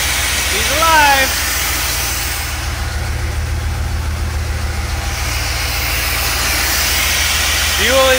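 A 1982 Corvette Collector's Edition engine idles steadily after starting, with a constant low rumble throughout and brief rising whine-like tones near the start and end.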